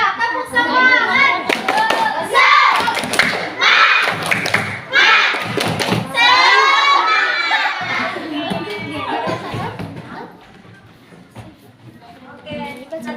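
Schoolchildren in a maths lesson perform the 'tepuk semangat' spirit clap twice, with loud, close bursts of group clapping and chanting voices, then the clapping fades as a teacher's voice continues.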